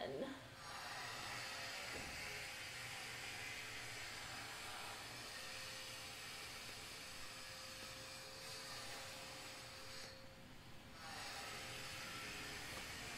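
Steady loud mechanical whine and hiss of power tools running throughout, with a sharper burst near the end and some talk in the background.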